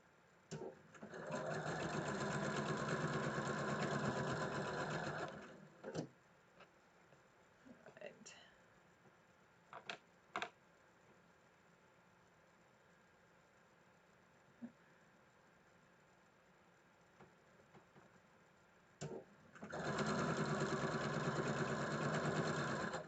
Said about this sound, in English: So let's finish sewing these on. My machine is happier now that I have the IDT on.